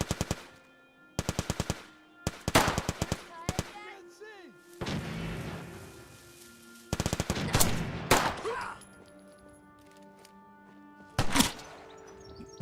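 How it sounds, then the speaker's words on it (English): Video game gunfire: rapid bursts of shots in short clusters with gaps between, loud and close, some heavier booming blasts and ringing tails mixed in, a few sharp isolated cracks near the end. "Who's shooting at me?"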